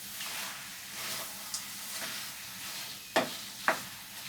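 Native chicken fries and sizzles in a pan while it is stirred, a steady close hiss broken by a few sharp scrapes and clacks of the utensil against the pan near the end.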